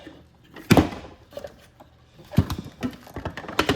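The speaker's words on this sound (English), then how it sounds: "I'm trying to close this drawer so I can find the next one" A tool box drawer slides and knocks shut in a garage, several clattering metal bumps and rattles spread over a few seconds, close by with no talking.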